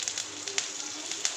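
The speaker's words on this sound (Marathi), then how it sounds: "ते तेल तापलेलं आहे. आता टाकते थोडंसं जिरं, आता टाकते थोडेसे कढीपत्ते" Curry leaves, added after cumin, hit hot oil while cabbage curry is being cooked, giving a brief steady sizzle with small scattered crackles close by.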